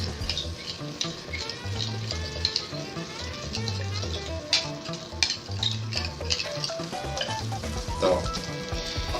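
Butter melts and foams in a frying pan, giving a soft continuous sizzle broken by repeated scraping and clinking of a utensil against the pan. A voice briefly speaks.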